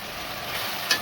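Broad bean pieces, tomato and brinjal pieces frying in a pan, stirred with a spoon: a brief, close, steady sizzle with a light scrape near the end.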